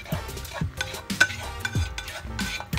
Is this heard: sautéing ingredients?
yes